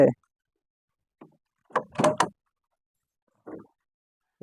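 A Solis tractor's bonnet is pulled and let go, giving a few short clunks and rattling knocks: a soft tap, a louder cluster of metallic thuds in the middle, then another brief knock, all close by.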